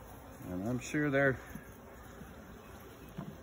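Honeybees buzz around an opened beehive frame: a faint, steady hum runs under and after a short stretch of someone talking, with the swarm audibly agitated.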